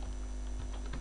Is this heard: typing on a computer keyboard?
yes